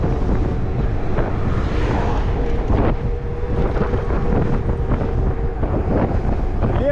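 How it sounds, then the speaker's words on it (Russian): Strong wind buffets the microphone continuously in Crimea, a loud, rumbling roar with no break for the whole stretch. "Ветер."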